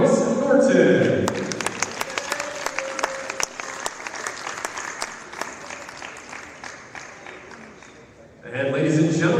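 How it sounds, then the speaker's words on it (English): Applause breaks out in a gym on senior night at a 2022 Whiteland versus Martinsville men's volleyball match, sharp individual claps standing out from the crowd, loud at first and then thinning, with an announcer speaking before and after it. "let's give our seniors and their parents a big round of applause to show them our appreciation"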